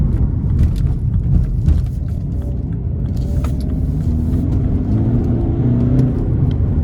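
A BMW 220d F22 diesel coupe accelerating under power, its engine a loud, steady low rumble and whir heard from inside the cabin, holding continuously without pause.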